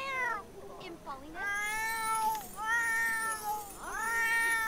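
Repeated plaintive meows from a cat in The Sims 4 (Island Living), three or four long, wavering calls in a row, close and prominent with short gaps between them.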